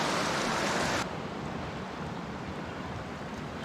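Rain falls outdoors beside a stream or lake where someone is fishing, a dense steady hiss that drops slightly in loudness after the first second and continues evenly.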